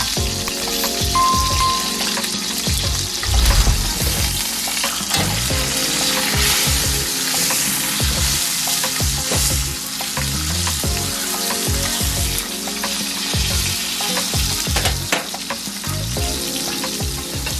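Steak searing in a hot pan for a steak caprese: a dense, crackling sizzle runs loud and close throughout, with uneven pops and spits and no voices.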